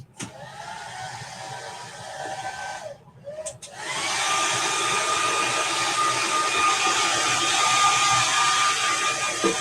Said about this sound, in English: And I'm going to blow it out with my hair dryer too.